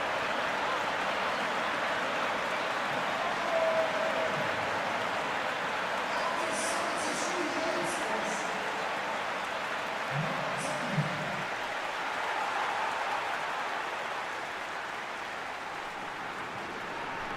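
Steady, dense crowd roar from a PES football video game match, a wash of cheering and noise that holds across the whole stretch with only slight swells and a few faint whistle-like tones.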